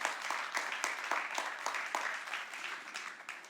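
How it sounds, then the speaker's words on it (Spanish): Church congregation clapping in applause, a steady scattered patter of many hands at moderate distance, with a few sharper individual claps standing out. "Dale un aplauso al Señor si se lo va a dar"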